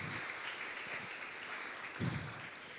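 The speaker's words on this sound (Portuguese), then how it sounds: "Palmas para eles, porque eles foram maravilhosos." A church congregation claps in thanks during a Portuguese-language service, a faint, distant patter of applause that stays steady for a few seconds.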